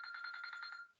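A cell phone rings during a class session, a bright electronic ringtone pulsing in about eight quick, even bursts over roughly a second before cutting off, heard alone without voices.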